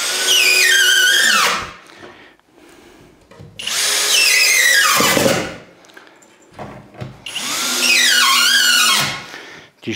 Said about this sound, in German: so könnt ihr dann wirklich alle vorgebohrten Löcher in der Rückwand einmal komplett ausschrauben